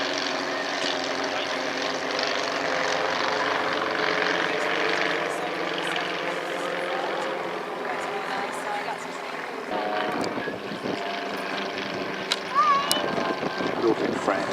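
A small French-built twin-engine aircraft with two tiny wing-mounted engines flies at the Midland Air Festival, its steady engine drone carrying through at moderate distance while a commentator keeps talking over it.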